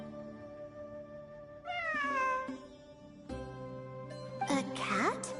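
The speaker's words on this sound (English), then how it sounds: "A cat?" A cat meows several times in the video game Genshin Impact, with rising and falling cries at intervals over a sustained musical backdrop.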